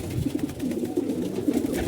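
Pet pigeons cooing nearby, a soft repeated low coo rolling on in steady pulses, close and moderately quiet with no talk over it.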